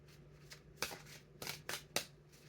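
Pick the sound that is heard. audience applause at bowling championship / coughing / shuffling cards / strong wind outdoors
shuffling cards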